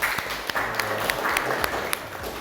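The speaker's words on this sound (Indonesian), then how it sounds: "tepuk tangan untuk kita semua." A class of vocational automotive students applauds steadily at a school, with a dense patter of clapping at moderate loudness and a few sharper individual claps standing out.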